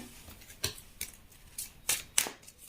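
Tarot cards drawn one by one from a pile for a reading, heard as five crisp, close snaps and flicks spaced roughly half a second apart in a quiet room.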